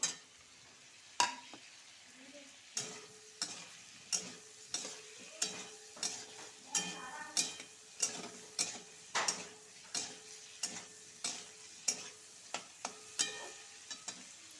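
Pabda fish with boiled potatoes fries in a pan over a faint sizzle, punctuated by a steady series of sharp spatula taps and scrapes roughly every half second, close and fairly quiet.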